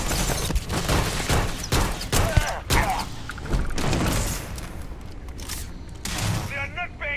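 Starfield video game combat gunfire crackles in rapid, loud bursts of shots and thuds, dense at first and then thinning out, with scattered mechanical clicks near the end.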